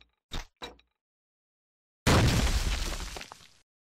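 A fragmentation grenade goes off indoors during a house-clearing drill: a loud, broad burst of about a second and a half that rolls off quickly, preceded by two short voiced calls and a moment of silence.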